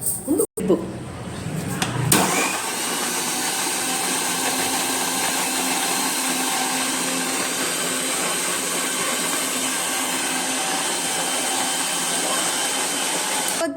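A kitchen mixer grinder blends dragon fruit and sugar into juice. After a couple of seconds of handling, the motor kicks in and runs as a loud, steady, continuous whir to the end.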